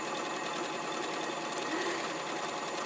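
An Elna 720 PRO sewing machine stitches fabric in a fast, even whirring hum, close and continuous for a few seconds with no talking.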